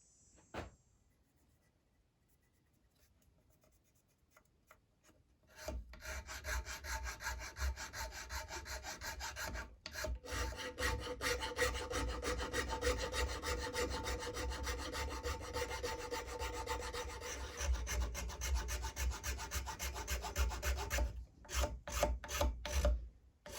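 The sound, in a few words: filing flats on a traditional powder horn with a file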